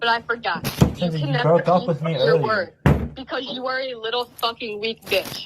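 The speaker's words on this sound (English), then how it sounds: "She is at his house banging on the door." Someone bangs on the door of a house, captured on a phone recording: a few sharp thuds come through beneath a woman's loud, angry shouting, which runs almost continuously.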